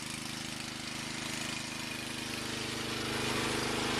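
Rebuilt Briggs and Stratton small engine runs steadily with a rapid, even putter and a hissy exhaust, moderately loud and close, the pace holding constant as it idles along.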